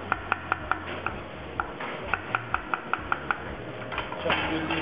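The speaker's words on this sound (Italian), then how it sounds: "Le vado a tagliare sottili" Knife thinly slicing garden zucchini on a cutting board in a hotel kitchen, a steady run of crisp, evenly spaced chopping taps up close, with faint kitchen background noise.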